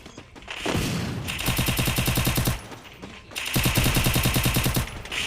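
Video game gunfire: two long bursts of rapid automatic fire, loud and close, separated by a short pause.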